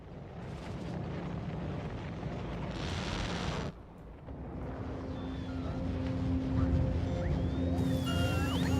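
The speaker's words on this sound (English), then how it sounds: "Alright, we are launching rockets." A rocket launch in a factory-building game roars as a steady, dense rumble with a brief surge and drop, then builds again with tonal hums and whistling sweeps layered over it.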